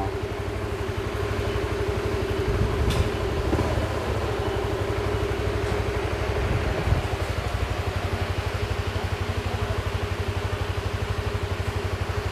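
A GTR 150 motorcycle engine runs steadily up close, a continuous rapid mechanical thrum with light clatter and small surges while it is put into gear.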